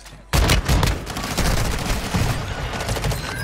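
Loud, close gunfire in a video game shooter, opening with a sharp blast and followed by a dense, continuous volley of shots that runs to the end, with no voices.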